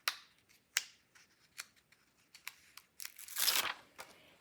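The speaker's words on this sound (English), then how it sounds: "So I'm gonna start by peeling the back off the transfer." Backing sheet peeled off a rub-on transfer for decorating a bag, a series of close, crisp papery ticks and crinkles ending in a longer, louder peeling rustle.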